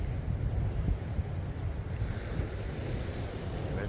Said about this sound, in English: and the crazy waves.